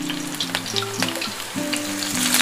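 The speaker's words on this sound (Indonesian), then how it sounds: "Minyaknya sudah panas, saya akan tumis terlebih dulu bawang bombay yang sudah diiris-iris." Sliced onion sautéing in hot oil for Indonesian egg semur, a dense close sizzle with spatula scrapes and clinks throughout, no talking.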